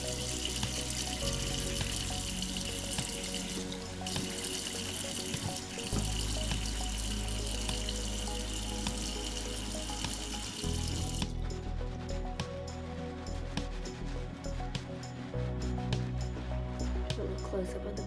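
Homemade soap being lathered under a running tap at a kitchen sink, with steady splashing water throughout and someone talking over it.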